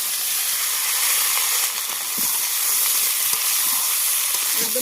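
Village brinjal frying in hot oil with cumin, bay leaf and whole garlic gives a steady, loud, close sizzle and hiss that continues without a break.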